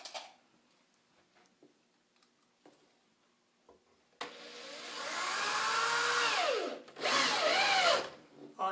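Power drill driving a deck screw into wood, two close, loud whining bursts with a rising pitch sweep after a stretch of faint ticks and taps.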